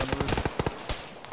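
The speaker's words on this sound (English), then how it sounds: "I can't get out there, I'm being shot." Gunfire in an Arma military video game, a rapid burst of closely spaced automatic shots followed by a few scattered single cracks, loud and near, with no talk.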